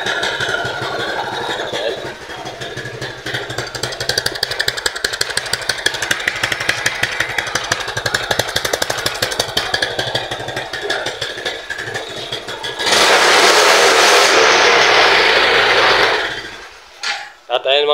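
A repaired Rusi 125 motorcycle engine idles with a steady, buzzing mechanical chatter, then revs louder and harsher near the end before dropping off. Someone talks briefly over it.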